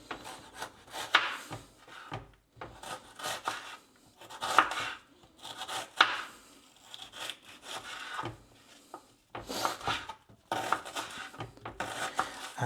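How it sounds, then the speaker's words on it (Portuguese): Knife chopping an onion on a board for a pasta dish, a series of irregular close, crisp wooden cutting strokes in bursts with short pauses, no talking. "É uma cebola. Deixa eu cortar aqui"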